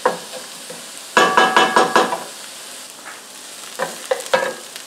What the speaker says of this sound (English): I've placed my chopped up celery and onions in there. And what we're going to do is cook this down